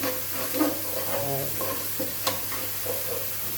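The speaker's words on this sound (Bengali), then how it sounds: "দারচিনি, এলাচি, এখানে তেজপাতা, গরম মশলাটা দিয়ে দিয়েছি এবং এটার সাথে ভালোভাবে ওটা মিশিয়ে নেব" Cinnamon, cardamom, bay leaf and garam masala stirred in hot oil: a steady close sizzle with repeated scraping stirs and one brief sharp clatter.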